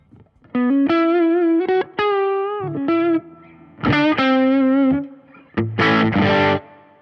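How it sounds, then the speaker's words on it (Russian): Electric guitar played through a touch wah effect on a Fender Mustang GTX50 amp, distorted sustained notes and short phrases that swell and quack with each pick attack, loud and close with brief gaps between, no talking. "Есть. Тачвах. Вот, тачвах. Это похоже на правду."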